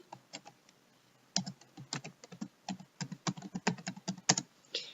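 Quick close clicks of fingers typing on a computer keyboard, an irregular burst of keystrokes that starts after a short pause and grows denser, with no voices.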